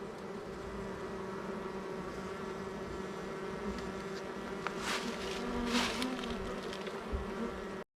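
Honey bees hum in a steady, dense drone around hive boxes holding queen cages, close and continuous, with a few brief louder scraping bursts in the middle.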